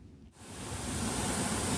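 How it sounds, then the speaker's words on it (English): A waterfall in a garden roars in a dense, steady rush of broadband water noise that swells in after a brief quiet start and holds loud and constant. "I don't know if you can hear me over this waterfall."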